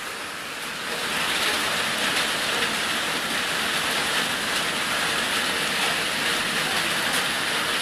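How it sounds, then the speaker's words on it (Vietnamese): Steady rain pours onto a fishing pond in rural Vietnam, a dense, loud, continuous hiss of drops that swells after the first second and holds evenly throughout. "lại mưa rồi anh em ạ"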